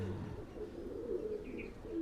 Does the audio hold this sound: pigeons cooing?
yes